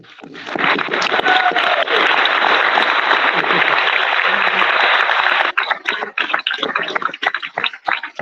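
Audience applause at an Eagle Scout court of honor: loud, dense clapping that builds quickly, holds steady for about five seconds, then breaks into scattered claps as it fades.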